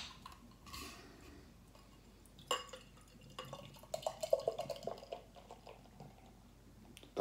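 A coffee doppelbock beer is poured into a glass, giving faint liquid trickling and fizzing with a few small clinks and drips in a quiet room.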